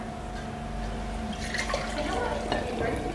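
Green tea concentrate is poured into cold water for kombucha, a soft trickling splash and a few drips, low and close, with faint kitchen hum under it.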